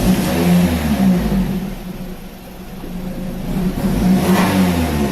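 A supercharged Lotus Elise Cup 250 on its stock exhaust starts up and revs, a loud continuous engine drone rising and falling in pitch over the full length with no voices.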